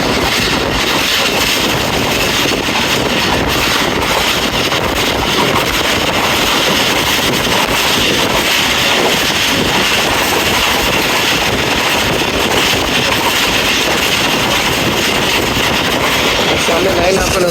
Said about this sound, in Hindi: ट्रेन हमारी टोकन पिक करते हुए बड़ी स्पीड से गुजरेगी